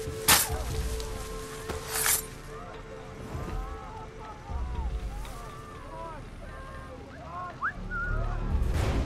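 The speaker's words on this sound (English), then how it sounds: "Yes, come to the whistle." Whistle calls in Assassin's Creed 3 mixed with the game's outdoor wind and ambience, a couple of short sharp bursts early on followed by faint rising and falling whistled tones, with people talking throughout.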